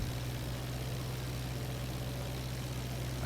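An aircraft engine in the IL-2 Flying Circus flight game runs as a steady, unbroken drone, low and constant throughout with no voices.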